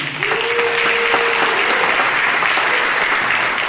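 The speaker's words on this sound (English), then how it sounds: "And please, a round of applause for our candidates tonight." Theater audience applauding candidates at a congressional district candidates' forum, a dense, steady wash of clapping from many hands filling the room, with a brief whistle-like tone near the start.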